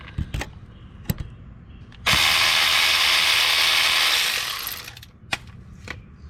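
A ratchet with a deep well socket undoes a bolt on a 2014 Hyundai Accent during A/C compressor work: a few isolated clicks and knocks, then a sustained loud whirring burst of about two seconds, fading, with more sharp taps afterward.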